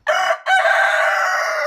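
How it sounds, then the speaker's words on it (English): A rooster crows loudly and close by, a brief opening call followed by a long drawn-out crow, on a farm where Russian and local chickens are kept. "you see some of the Russian chickens there as well"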